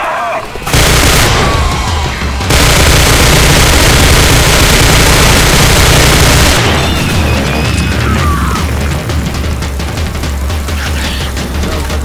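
A grenade detonates in Left 4 Dead 2 with a very loud, sustained roar of blast and debris, followed by chaotic crashes and gunfire-like noise.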